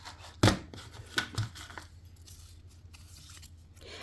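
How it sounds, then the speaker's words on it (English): Scissors snip around card sentiments while a card kit is being made, with a few sharp, close cuts bunched near the start and quieter rustling after. "And I will cut around them."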